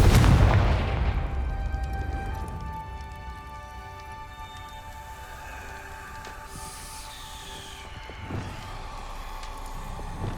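A Confringo blasting spell in Hogwarts Legacy on PS5 erupts in a loud, booming explosion right at the start, then decays into a lingering rumble with fainter crackling debris.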